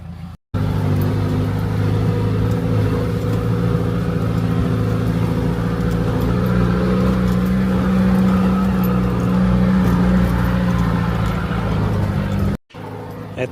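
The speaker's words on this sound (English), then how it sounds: "we are towing this car now to the yard." A car engine labours steadily while towing another car uphill on an off-track route in Eswatini, a loud continuous drone with low hum that holds nearly the whole time before cutting off near the end.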